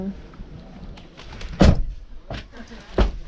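A campervan side door is shut after insulation work, giving one heavy slam followed by a couple of further thuds, loud and close, with some faint handling noise in between.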